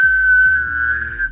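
A single sustained mouth whistle holds one clear steady pitch, loud and close, alone without talk.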